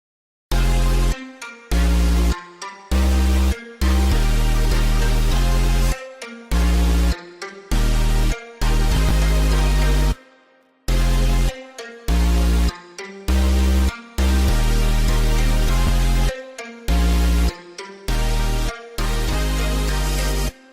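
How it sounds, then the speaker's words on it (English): A loud trap beat made in FL Studio pumps with heavy bass, chords and melody, the full mix repeatedly chopped by short rhythmic silences and stutters, with no voices. "So with the chords and melodies, it's going to sound like this."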